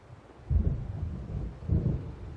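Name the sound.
thunder of an approaching storm in the video game Alan Wake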